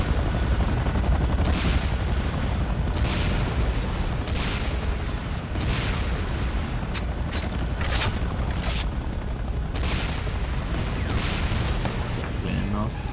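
A helicopter in the video game C&C Renegade drones steadily beneath repeated bursts of gunfire and booms, with someone talking over the game action.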